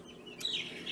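Young barred rock chickens at a homestead giving a few high, thin chirps close by, one sharp peep followed by softer trailing cheeps.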